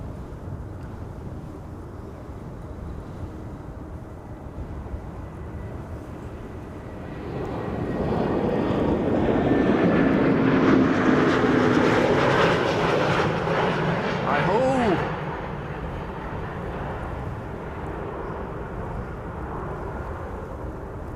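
An Italian airliner arriving at Amsterdam Schiphol on a frosty, sunny day swells into a broad engine roar for several seconds, then cuts back sharply and leaves a softer rumble.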